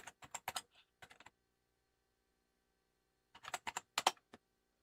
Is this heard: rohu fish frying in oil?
no